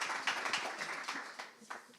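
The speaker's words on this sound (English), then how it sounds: "All right, everyone give a round of applause for Wen" Audience applause for a speaker at an AI and future-of-work talk, a smattering of claps that fades gradually over two seconds, moderately distant.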